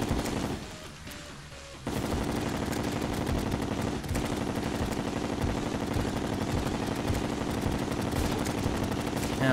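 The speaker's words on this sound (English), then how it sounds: "I just got shot by something, I'm not sure what" Rapid bursts of video game gunfire in Terraria, played in Expert Mode with a gun-slinger build. After a brief lull, the crackling shots repeat quickly and without a break, loud and close.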